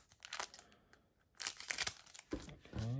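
A Donruss Optic basketball card box being cut open: close, crinkly tearing and scraping of cardboard and wrapper in uneven bursts, with a brief murmured voice near the end.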